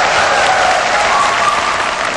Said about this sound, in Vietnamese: Cho một tràng pháo tay cổ vũ tinh thần cả hai được.